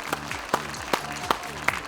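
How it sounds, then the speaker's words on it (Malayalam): An audience on a quiz show claps five distinct times in an even rhythm, each a sharp, fairly close burst, with no cheering or talk. "ശരിയായ ഉത്തരം ഒന്ന് കൈയടിച്ചേ"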